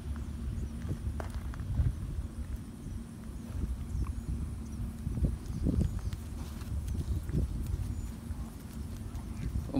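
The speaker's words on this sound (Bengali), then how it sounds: "বিরাট অনেক বড় ঘোড়ার একটা পাল, এক পাল ঘোড়া।" A large herd of horses walks nearby on a farm in an American village, giving soft, irregular hoof clip-clops under faint background noise and occasional voices.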